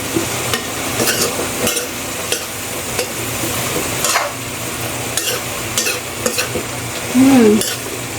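Food being stirred in a pan with water just added, scraping and clinking steadily with a soft sizzle underneath and a sharper utensil scrape near the end, close by with no talking.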